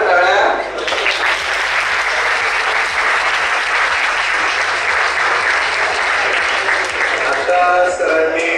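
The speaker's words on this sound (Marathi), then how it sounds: "तिथं जोरदार टाळ्या." Vigorous audience applause in a college lecture hall during a budget talk, sustained loud clapping from many people over a low rhythmic hum, steady from start to finish.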